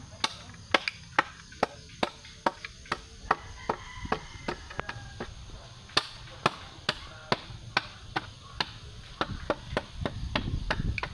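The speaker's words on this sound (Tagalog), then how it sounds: "So ito lang yung ginagamit ko pagtanggal ng buko. Para mabilis, martilyo lang." Repeated sharp hammer blows crack against a hard young coconut shell, striking steadily about twice per second, close and loud, with no talking.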